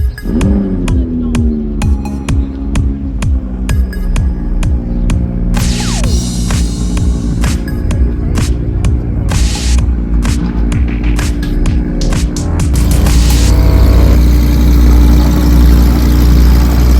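A 1973 Porsche 911 with a 3-litre SC engine and carburettors idles steadily with a low, throbbing hum, close and loud throughout, while other engines and sharp clicks sound around it.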